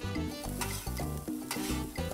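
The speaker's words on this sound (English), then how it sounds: "Stir them up, it's always fun. Ticky ticky with the spatulas, that's always the fun part." Metal spatulas tick and scrape on a Blackstone 22-inch griddle while chicken fried rice sizzles, a steady close sizzle broken by quick rhythmic clacks of stirring.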